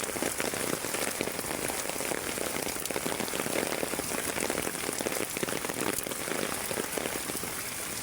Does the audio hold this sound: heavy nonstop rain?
yes